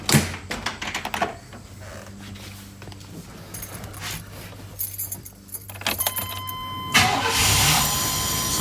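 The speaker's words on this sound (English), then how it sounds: "as you can hear, it started right up, had enough power to get this V8 going from completely dead" A V8 car engine cranks and fires up from a completely dead battery using a Hulkman Alpha 85S jump starter, with clicks and key jangling before the engine catches and settles into a loud, steady idle near the end.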